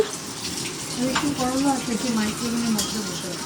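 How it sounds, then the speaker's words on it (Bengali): Papad frying in hot oil at home makes a steady, bubbling sizzle, partly masked by voices talking over it in the room. "আর মানি এখন একটু পাঁপড় ভাজছে।"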